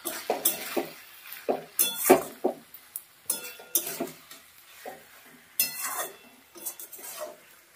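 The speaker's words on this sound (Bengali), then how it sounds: "ধনেপাতা দিয়ে একটু মিশিয়ে দেবো চচ্চড়িটার সঙ্গে।" Coriander leaves stirred into a fish chorchori of mourala fish in a pan, a spoon scraping and clinking against the metal in irregular strokes over a faint sizzle, close and moderately loud with no talk.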